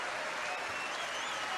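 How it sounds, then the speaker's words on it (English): Sustained theatre audience applause at a curtain call for the musical Carousel, a dense, steady wash of many hands clapping at full volume throughout, with crowd noise mixed in. "The audience wouldn't stop clapping at the end."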